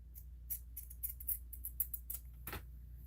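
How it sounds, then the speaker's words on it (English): Scissors trimming the extra fabric seam allowance on a lined tote bag: a series of crisp, close snips at an irregular pace, about a dozen quick cuts with one sharper snip near the end. No one speaks. "I'm just trimming the extra seam allowance"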